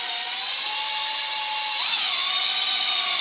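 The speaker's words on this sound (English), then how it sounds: "installing trim with self-tapping trim screws into steel studs." Power drill driving self-tapping trim screws into steel studs during trim installation, a steady high whine that rises in pitch and loudness partway through as the screw bites, close and continuous with no talk.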